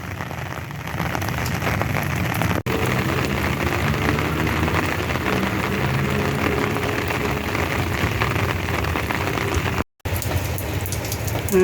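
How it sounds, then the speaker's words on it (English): Steady rain falls in the desert during Tropical Storm Alvin, a dense continuous hiss of drops on surfaces with a faint low rumble beneath, even and close throughout. "And the steady rain continues."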